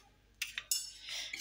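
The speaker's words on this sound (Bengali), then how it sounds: "কড়াই টড়াই এগুলো সব ধুয়ে নিই।" Dishes and pans, including a kadai, are washed at a kitchen sink, giving a few quick, close metallic clinks and clatters over a second or so, then a short rush of water, without talk.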